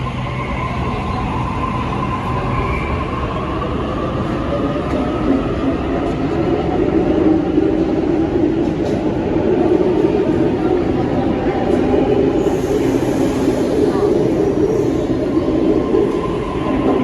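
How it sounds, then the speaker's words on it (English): A train rumbles steadily at Circular Quay station, with continuous rolling wheel noise and rail clatter growing slightly louder midway, a faint voice briefly audible. "So they have double trains here."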